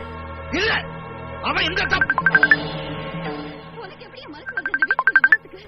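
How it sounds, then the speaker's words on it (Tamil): A phone ringtone chiming in two bursts of quick repeated rising tones, mixed with nearby voices and laughter in a tense scene from a Tamil thriller film. "மனுஷன் இந்த நேரம் பார்த்து ஃபோன் பண்றாரு"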